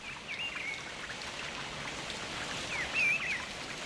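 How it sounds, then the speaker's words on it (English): Rain falls steadily at a lake where anglers wait for carp and catfish, a soft, even hiss of drops with a few faint bird chirps above it. "once the rain stops, that is."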